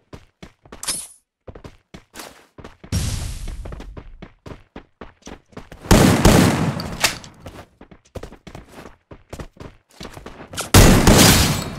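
Gunfire in the mobile battle-royale game Free Fire MAX, Iron Cage lone-wolf mode: rapid bursts of sharp shots and single cracks echo throughout, with heavier volleys swelling loud near the middle and end.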